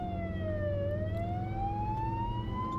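A European emergency vehicle siren sweeps slowly down and back up in pitch, steady and moderately loud over a low rumble of traffic.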